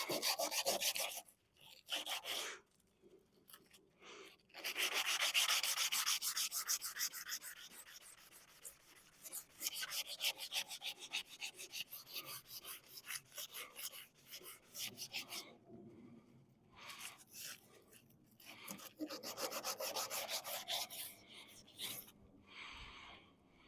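Sandpaper of 100 grit is rubbed by hand over an old Ranger, giving soft, scratchy strokes in uneven bursts with short pauses between them, close and fairly quiet.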